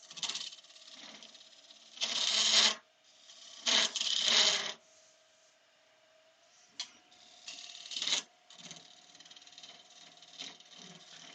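A lathe tool cuts a tapered mortise into a live edge wooden bowl as it spins on the lathe, giving a steady low motor hum broken by several loud, scraping bursts of cutting. No one speaks.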